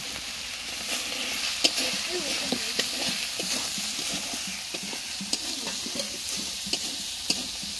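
Food stirred and sautéed in a pan with salt and turmeric, a steady close sizzle with scraping stir strokes and occasional sharp clinks of the utensil against the pan.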